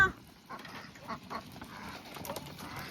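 Ducks being rounded up on a rural rice farm on a cold evening, quacking faintly and intermittently at a distance through low outdoor background noise.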